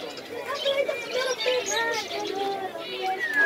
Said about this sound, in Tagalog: Ito naman, mga ibon.